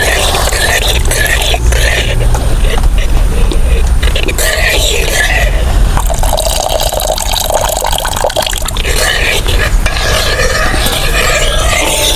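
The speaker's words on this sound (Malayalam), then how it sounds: "നമ്മൾ നേരത്തെ അടിച്ചു വെച്ച തേങ്ങാപ്പാൽ ഇതിലേക്ക് ചേർക്കുന്നുണ്ട് ഇതുപോലെ ഇളക്കാം" A spoon stirs coconut milk into fenugreek porridge in a pot, giving close, continuous scraping and liquid swishing with a faint sizzle throughout.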